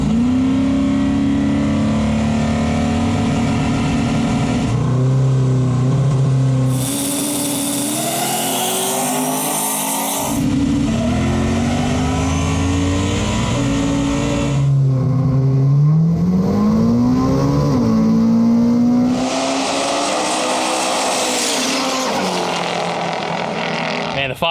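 Race cars at a no prep drag race rev and accelerate loudly: a turbocharged Foxbody Mustang, a DSM and an AWD BMW G80 M3, their engines climbing and dropping in pitch with turbo whooshes, up close and continuous.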